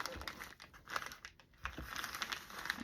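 Wrapping paper being folded in half for a journal cover, with quiet close crinkling and rustling in short bursts as the sheet is handled and creased. No voices.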